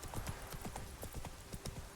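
A horse's hooves in The Witcher 3 video game clip-clop in a steady, quick rhythmic trot, close and fairly clear, with no voices.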